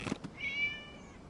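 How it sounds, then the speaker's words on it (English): A cat meows once in a video game, a single drawn-out, rising-then-falling cry that follows two brief thumps and fades gently over about a second. "It was just a cat."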